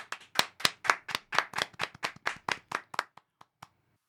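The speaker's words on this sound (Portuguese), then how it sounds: "Uma salva de palmas." Hand clapping from a small group welcoming two podcast guests, roughly twenty close crisp claps in quick succession that thin out and stop after about three and a half seconds, with no talking.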